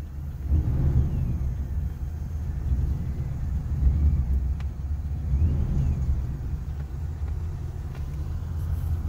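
A 1978 Cadillac Coupe DeVille sits just started and idling, its engine a steady low rumble with slight swells, close and alone.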